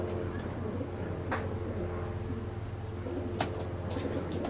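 Coloured opal pigeons coo softly inside a loft, their low repeated calls rising over a steady hum, with a few sharper chirps and rustles nearby.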